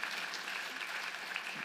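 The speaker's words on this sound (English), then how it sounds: "round of applause for all of our scholars here who just presented" Faint, brief applause from an academic session audience for student scholars after lightning-round presentations, a soft scattered patter of clapping heard at a distance.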